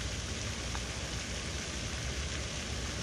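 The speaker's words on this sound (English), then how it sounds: "Sounds like it's raining, but that's just that fountain out there." An outdoor fountain on a country club golf course splashes steadily, giving a dense, even hiss like falling rain that holds at one level throughout with no voices over it.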